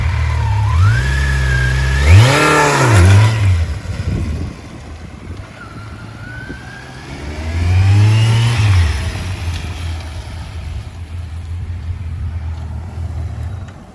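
Motorcycle engine revving hard twice, each rise sweeping up then falling as the bike launches off with the front brake applied and the front end diving; close, loud, with idle rumble between pulls.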